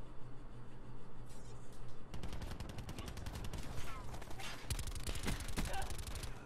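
Rapid bursts of gunfire from the MX9 submachine gun in the video game Call of Duty: Black Ops 4, coming in dense rattling volleys of sharp shots, with a player talking faintly underneath.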